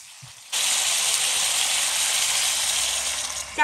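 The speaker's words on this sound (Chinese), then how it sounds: "我们先把海参煸炒一下，这样味道会特别的香的，炒一两分钟就可以。" Sea cucumber sizzles in a hot wok with a sudden, loud, steady hiss that begins abruptly and holds evenly for several seconds of stir-frying, ending with a brief clatter.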